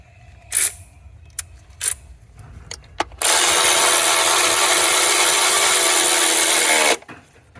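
A power tool drives an ignition coil bolt back into a Ford Edge engine. A few sharp clicks and taps come first, then one loud, continuous whirring run of nearly four seconds before it stops abruptly, heard close with no talk.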